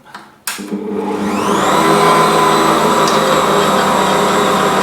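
Electric mixer switched on to mix pizza dough with olive oil, a couple of clicks and thumps, then a motor spinning up into a loud steady whirring hum that runs to the end.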